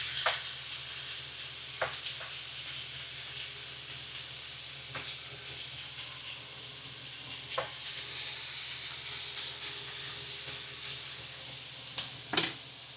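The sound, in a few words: butter sizzling in pan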